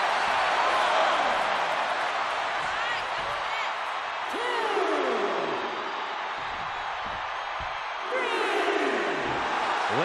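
A large WrestleMania arena crowd roars and cheers continuously during a Last Man Standing match between Brock Lesnar and Batista, with whoops and surging swells, a dense loud wash throughout.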